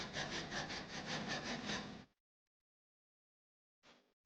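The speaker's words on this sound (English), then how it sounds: "the saw actually performs just fine" A garden saw cuts through wood in fast, regular back-and-forth strokes, loud and close, then stops abruptly; after a silent pause a single short stroke follows.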